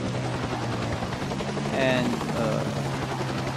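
AH Air Cobra attack helicopter engine in a video game, producing a steady, moderate rotor and turbine drone with a brief rising whine partway through.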